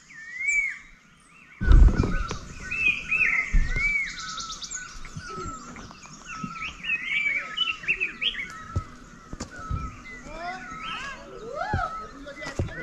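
Many birds chirp and call in a forest at Rishop in North Bengal, a dense overlapping chorus of varied tweets near and far, with a loud thump early on and light handling noise.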